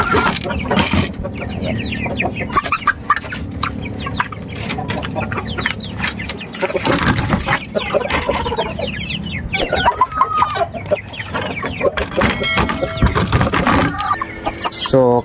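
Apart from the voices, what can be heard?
Shamo gamecocks clucking and crowing at a market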